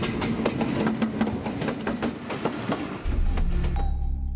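Train passing along the rail track linking India and Bangladesh, a steady clickety-clack of wheels on rails rolling close and loud, with a deeper engine rumble surging in near the end.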